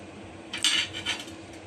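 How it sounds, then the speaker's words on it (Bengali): A steel plate set down over a clay curd pot, a short metallic clink and scrape followed by a second lighter contact, close and clear in a quiet kitchen. "হাঁড়িটার উপরে আমি একটা স্টিলের প্লেট দিয়ে ঢেকে দিচ্ছি।"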